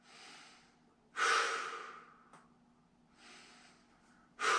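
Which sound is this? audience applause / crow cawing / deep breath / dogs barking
deep breath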